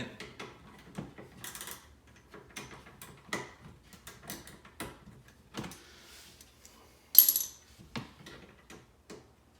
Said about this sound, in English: I got a little ratchet here.